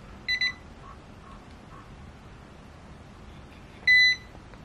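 A ZIIP HALO facial device gives two short electronic beeps, a pause, then one longer beep, clear and close against a quiet room hiss.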